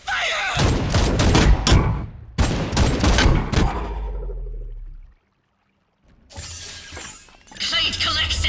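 Rapid crackling gunfire volleys in the Warhammer 40000: Chaos Gate game, two dense bursts of shots with mechanical clatter, a second of silence, then more loud combat noise.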